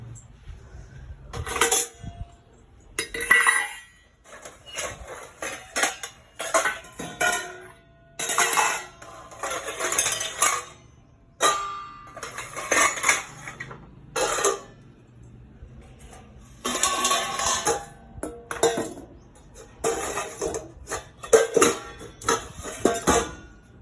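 Dishes and pots clink and clatter in irregular bursts, close by, with short quiet gaps between each round of handling.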